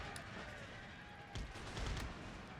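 Cannon firing canister shot in Empire: Total War, heard as distant booming reports amid a faint, continuous battlefield rumble, quiet overall with a couple of louder thuds.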